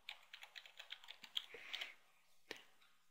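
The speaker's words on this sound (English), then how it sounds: "Key in our admin username and password." Rapid, irregular keystrokes on a computer keyboard while admin login details are entered into a simple helpdesk system, fairly quiet and close, with no talking.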